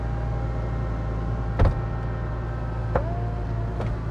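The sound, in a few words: McLaren 570S Spider rear window being lowered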